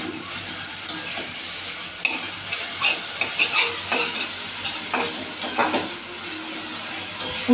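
Red amaranth greens fry with poppy seeds in a pan, a close steady sizzle layered with frequent scraping and tapping strokes of a stirring spoon.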